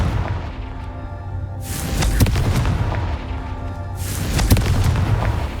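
Two loud booming blasts from the Confringo fire spell in the Hogwarts Legacy video game, each a sharp crackling burst with a rumbling tail, roughly two seconds apart over a steady low game ambience.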